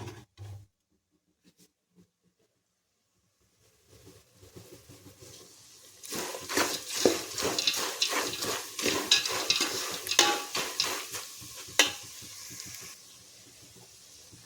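Chili powder is stirred into a sizzling tempering in a pan on a gas stove. After a quiet start, a loud hiss and sizzle rises, with a spoon scraping in quick strokes, then it fades.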